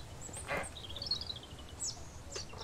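A bird calls in the video game Mist Survival, a few short chirps and a thin warbling whistle rising over quiet ambient background, fairly faint and intermittent.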